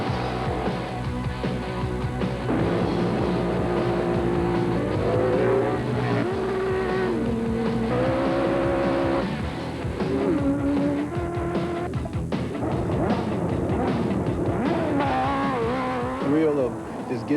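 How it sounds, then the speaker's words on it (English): A motorcycle engine roars continuously, its pitch rising and falling through gear shifts as it speeds along a track, loud and close throughout. "just letting that clutch go and just going down the track on the bike"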